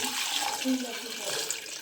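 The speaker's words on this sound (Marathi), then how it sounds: "आता आपले अंडे उकडून झालेत नाही का त्यात मी गार पाणी टाकतो" Cold water pours into a pot of freshly boiled eggs, a continuous splashing and gurgling stream running close by for the whole short moment.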